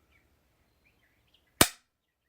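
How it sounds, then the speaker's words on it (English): Rifle trigger click during dry firing for offhand metallic silhouette practice, a single sharp snap that decays quickly, alone in near silence. "you're just watching the movement through the crosshairs while you're dry firing on that white circle"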